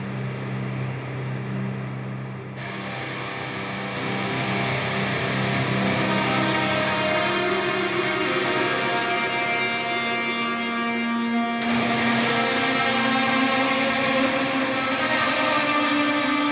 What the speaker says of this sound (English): by flicking the switch, distortion,